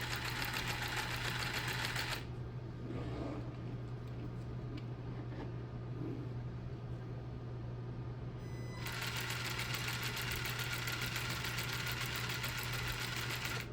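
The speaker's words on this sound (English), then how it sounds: "basically that's just the dog bones binding" Steady mechanical whir and buzzing rattle from a Tamiya Super Sabre RC car, its front dog bones binding and the front arms vibrating, a continuous close drone with a slightly muffled stretch in the middle.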